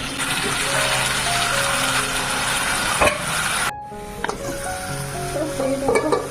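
Onion and garlic masala paste frying in a pan at home, a steady close sizzle with stirring scrapes, briefly cut off near the middle then resuming with clinks of utensils.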